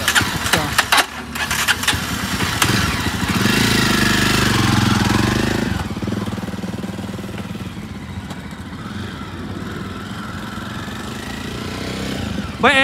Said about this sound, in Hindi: अब एक बार थोड़ा चला के देखते हैं इस बाइक को।